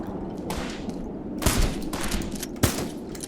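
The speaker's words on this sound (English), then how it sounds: "We're gonna throw a frag up there." Frag grenade blasts in the retro shooter Metal Garden, set in a decaying megastructure, heard amid ongoing combat noise: two sharp explosive bursts about a second apart over a continuous gunfire-like background.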